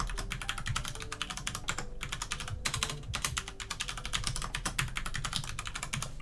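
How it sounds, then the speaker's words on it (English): Rapid typing on a computer keyboard while entering a name and email, a dense run of close, crisp key clicks with brief pauses between bursts. "Type in your email."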